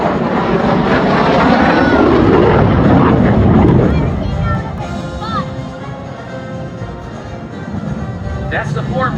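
MiG-17 jet rolling at an airshow, a loud roaring engine pass that sweeps and fades after a few seconds into a softer distant rumble, with a commentator talking over it.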